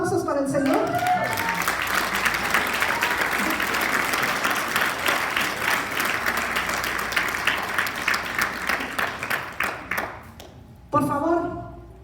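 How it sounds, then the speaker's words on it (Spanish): Church congregation clapping together for God during a Sunday service, a loud and dense burst of hands that keeps going for several seconds, thins into scattered claps, then stops, after which a voice speaks briefly. "Expresivos, aplausos para el Señor."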